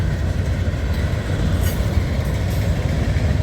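A freight train passes close by in Abbeville after a rain storm, its loud steady rumble and wheel clatter rolling continuously with a brief high squeal of wheels.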